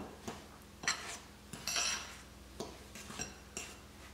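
Spoon stirring semolina batter in a bowl, with soft scraping strokes and several clear clinks of metal against the bowl, close by and with no voices.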